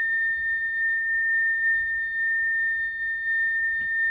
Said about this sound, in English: The signal you have just heard was a general emergency alarm and was sounded for guest familiarisation